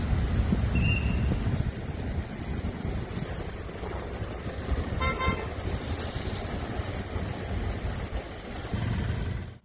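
Dense traffic rumble at a highway toll plaza during the festival rush, with engines idling and moving, a cluster of short car horn toots midway and another sharp honk near the end.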